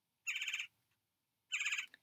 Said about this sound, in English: Hello, woodpecker.